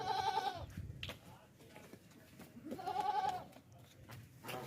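Fat sacrificial goat for sale at a livestock market, bleating twice in loud wavering calls a few seconds apart, with someone talking in between.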